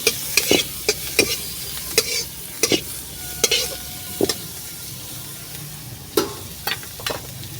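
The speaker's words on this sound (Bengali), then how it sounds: "রসুন দিলাম পেঁয়াজ দিলাম দিয়ে একটু ভেজে নেবো" Garlic and onion fry in a pan for cabbage chops, with a soft, low sizzle broken by about a dozen sharp, close scraping stirs at an uneven pace.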